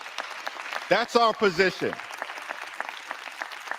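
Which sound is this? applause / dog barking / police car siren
applause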